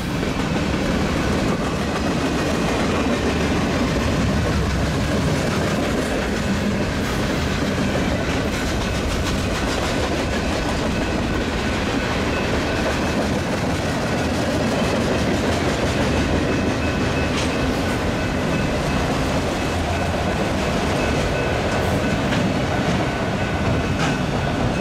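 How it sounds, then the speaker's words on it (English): A Union Pacific westbound mixed freight train passes at close range through Montour, Iowa, a steady, loud rumble with continuous clickety-clack of wheels over rail joints and occasional faint squeal, with no talk. "Nice westbound mixed freight through Montour, Iowa."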